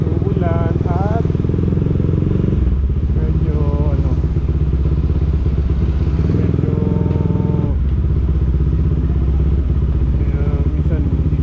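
A motorcycle engine rumbles steadily and close throughout, its pitch shifting as it revs, with some rattling and a voice talking over it.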